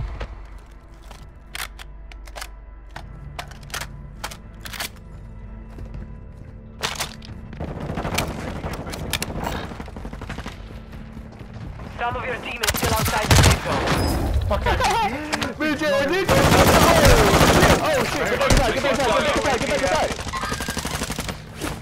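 Gunfire in a Call of Duty: Modern Warfare II multiplayer match: sparse single shots giving way to dense automatic bursts and loud sustained fire, with players talking over it.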